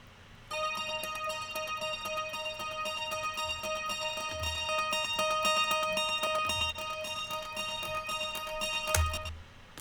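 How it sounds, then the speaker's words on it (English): Acoustic guitar from the last chorus of a pop song, widened with a Soundtoys MicroShift, plays bright sustained strummed chords with soft low thumps underneath, steady and moderately loud with no voice. "I took the microshift here by Soundtoys and just made it sound super wide."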